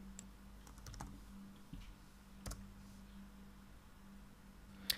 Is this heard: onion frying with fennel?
no